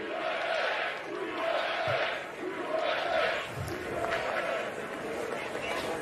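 Large golf crowd at Ryder Cup practice cheering the U.S. team, loud swelling roars and shouts rising and falling in waves, with a few distinct voices standing out from the mass.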